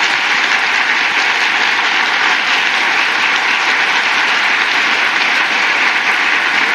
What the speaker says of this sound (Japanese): 改めまして12名の選手に大きな拍手をお願いいたします。